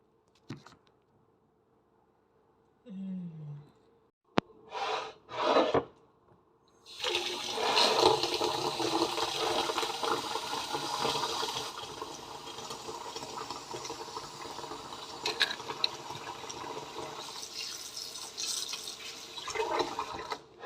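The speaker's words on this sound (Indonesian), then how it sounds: "Kita cuci seperti ini guys, airnya kan banyak, lalu kita buang gitu" Soybeans washed in water for homemade tempeh: a few short splashes, then a long steady rush of pouring and sloshing water, close and fairly loud, with no talking.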